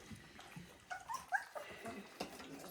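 Three-week-old puppies eating for the first time let out a few thin, high whimpers and yips, fairly faint and close, over soft shuffling and messy eating noises with no clear talk.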